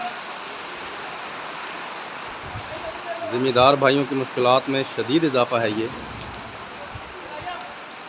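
Rain with strong wind over farm fields in Alipur Chattha Mandi, a constant broadband hiss of falling water throughout, with someone talking over it in the middle.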